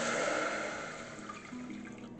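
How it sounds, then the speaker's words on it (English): Water pours steadily into a pot holding toasting cinnamon and cloves, a continuous close splashing rush that is loudest at the start and eases slightly as it goes on, with no speech. "I'm going to add in some water."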